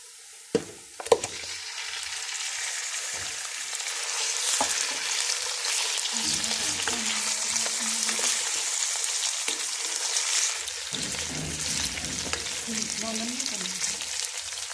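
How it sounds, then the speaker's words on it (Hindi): Half a kilo of chicken is tipped into a pan of fried onions. After a couple of sharp knocks, a steady, close sizzle carries on throughout, with stirring scrapes and a voice talking faintly underneath. "प्याज हमारा फ्राई हो गया है। अब इसमें चिकन डाल लेंगे,"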